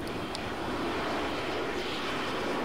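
Airplane engine in Arma 3 roaring steadily at full throttle during takeoff, a loud, continuous broadband drone with no talk.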